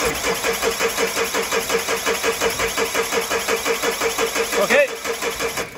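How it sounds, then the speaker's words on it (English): A Mazda 6 engine with its camshaft position sensor disconnected cranks without starting, producing a steady, fast, even chugging of the starter that stops abruptly near the end. "Rory, will you crank it?"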